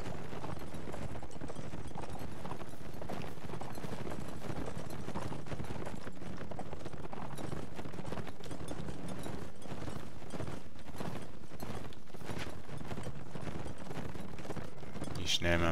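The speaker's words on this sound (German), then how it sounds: "Wie schnell mein Pferd ist, wenn ich Vollgas gebe." A horse galloping at full speed in the video game Mount & Blade Warband, a fast, continuous drumming of hoofbeats held loud throughout, with a voice audible at times over it.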